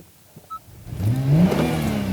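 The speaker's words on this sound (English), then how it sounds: "the engine kicks into life with a snarl that's rich and potent" A 2020 Honda NSX engine starts after a brief starter whir, firing into a loud, close rev that settles into a steady, rich idle.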